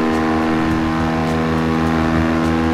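300-400cc sport motorcycles scream past in a 1 km drag race, a loud sustained high-revving engine drone that barely changes across the short stretch.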